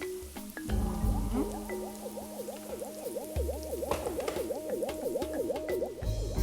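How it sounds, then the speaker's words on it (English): Hot water poured from a kettle into fish stock in a jug, topping it up to the litre mark: a steady, close pouring stream with a rising liquid tone, running for several seconds with no talk. "I'm just going to make this up to the litre mark with some water from the kettle"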